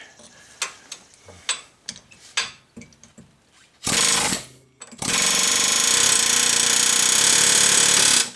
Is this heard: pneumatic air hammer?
yes